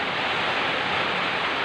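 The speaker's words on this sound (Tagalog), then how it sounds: "Ang lakas ng ulan." Heavy rain pours down steadily in a dense, even hiss during a windy afternoon downpour, close and continuous with no voices.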